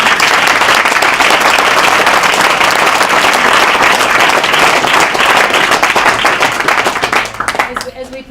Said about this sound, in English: a big round of applause for our